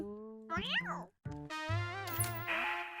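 A cat meows several times in rising and falling cries, close and fairly loud, with brief pauses between calls.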